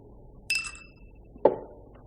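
Two ice cubes drop into a glass of scotch, each landing as a single sharp clink a second apart against a quiet background.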